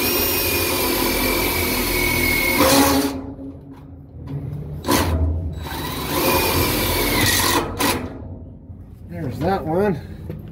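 A battery power drill drives laminate screws into a wooden deck in several short bursts of whirring, close and fairly loud, separated by quiet gaps, with someone talking near the end.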